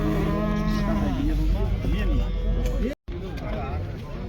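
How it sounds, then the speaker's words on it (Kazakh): Cattle mooing at the Kyzylorda livestock market among heifers, calves and bulls. Loud, close moos with rising and falling tones repeat over a busy background while people talk nearby. "Қалай саған мына қанша отыр? Сиырымыз."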